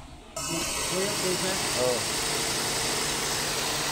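A steady Toyota B-series car engine idles continuously at moderate level after a low-power fault was repaired, with a voice speaking briefly over the low rumble.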